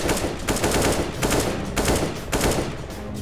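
Automatic gunfire in the shooter game CS:GO, played as a terrorist, fires in several long, loud, close bursts of rapid shots separated by brief pauses, with no talking.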